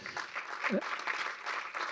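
A crowd applauds the grand-prize winner at an advertisers-of-the-year awards ceremony for 2024, a brief, soft patter of clapping with a short voice cutting in midway.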